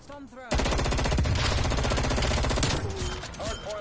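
Sustained burst of FFAR 1 automatic rifle fire in Call of Duty Cold War multiplayer, a loud rapid stream of shots lasting a few seconds and trailing off, with brief voice chatter just before it.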